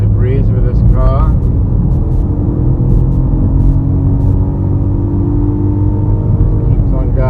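Ford Puma ST-Line compact SUV accelerating to overtake on the road, a loud steady engine and road drone heard from inside the cabin, with a voice talking briefly at the start and end.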